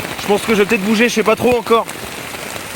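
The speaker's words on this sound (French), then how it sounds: "Je reçois des grêlons et tout. Mon abri est en train de prendre la flotte." Rain and hail pelting a makeshift shelter during a night in the Alps, a steady close patter under someone speaking briefly in French.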